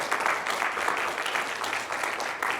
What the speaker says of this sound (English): And Matthew really deserves a big round of applause